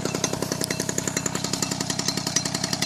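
A Peugeot 103 SPX moped from the 1990s with a flute exhaust idles close by in a rapid, rattling two-stroke putter, steady and alone.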